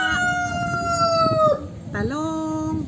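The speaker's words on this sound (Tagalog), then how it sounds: "Malakas may bunganga ng manok sa akin dito." Rooster crowing loudly nearby, two drawn-out crows one after the other, with a person speaking briefly underneath.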